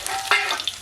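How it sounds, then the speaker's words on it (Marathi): Garlic dropped into hot oil on a tava over a wood-fired chulha, a short crackling sizzle with a sharp burst partway through, close and clear. "तेल टाकले आता लसूण टाकते"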